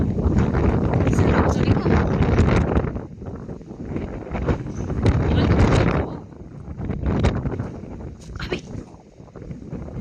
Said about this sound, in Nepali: हावा यस्तो डेन्जर छ, कपाल सबै उडाइसक्यो